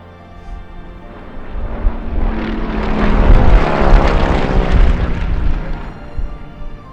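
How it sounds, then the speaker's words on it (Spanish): A T-6 and a Mosca propeller plane fly past together in close formation, their engine drone swelling from faint to a loud, roaring peak mid-pass and then easing away. "Y ahí llegan en formación cerrada el T6 y el Mosca, un americano y un ruso."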